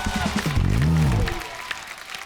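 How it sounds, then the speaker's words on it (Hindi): A studio audience on The Kapil Sharma Show applauds in a dense, steady roar while booming music swells beneath it for a fanfare-like entrance. "जोरदार तालियां एक बार संजू सर के लिए।"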